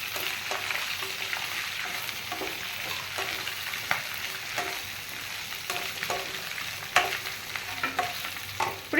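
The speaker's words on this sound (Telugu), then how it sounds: "ఇప్పుడు బెండకాయలు వేసుకోవాలి. బాగా కలుపుకోవాలండి." Okra (bendakaya) sizzles steadily in a hot pan while being stirred, with frequent scraping and clattering strokes over the frying hiss and no voices.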